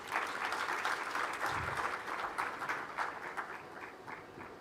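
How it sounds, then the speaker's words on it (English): An audience applauds at a Kenya School of Government centenary session, with dense, sustained clapping holding steady throughout and tapering slightly toward the end. "A round of applause as he comes."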